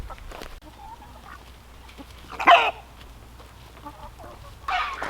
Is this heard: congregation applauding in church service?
no